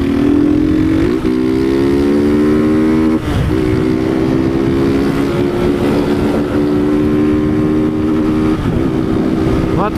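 A motorcycle's exhaust drones loudly while riding, with several rising pulls through the gears and brief dips at the shifts, close to the microphone amid rushing wind noise.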